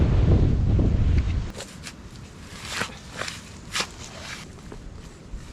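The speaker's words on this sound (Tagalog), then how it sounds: "Lalo kayo malaki, malakas hangin" Gusty wind roars against the microphone for a moment, then eases into softer rustling with faint footsteps.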